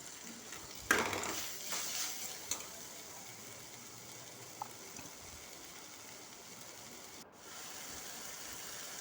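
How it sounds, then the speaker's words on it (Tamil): Goat lung gravy stir-frying in a pan: a steady soft sizzle throughout, with a few louder scraping stirs near the start, fairly faint and close, no talk. "கொஞ்சம் நல்லா இது பச்சை வாடை போகிற மாதிரி பரட்டிட்டு தேவையான உப்பை போட்டுக்கிறேன்"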